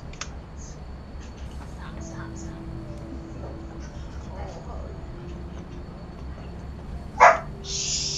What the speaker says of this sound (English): Will you stop barking?